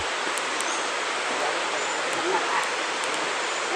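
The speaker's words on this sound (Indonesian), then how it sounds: "diajak berkeliling oleh Pak Sudirman untuk melihat keindahan air terjun Parangloe." Parangloe waterfall in South Sulawesi pours as a steady, broad hiss of rushing water, continuous and fairly close, with a voice faintly audible beneath it.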